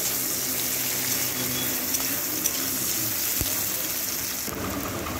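Chopped onion frying in a pan for a pointed gourd (parwal) recipe, a steady soft sizzle and bubbling hiss running continuously at close range with no talk.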